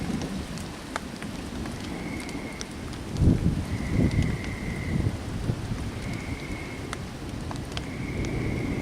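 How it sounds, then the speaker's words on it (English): Rain falling on a raised tarp over a hammock at an overnight camp, a steady soft patter with occasional louder drops and light wind, close and continuous with no talk. "it is raining now"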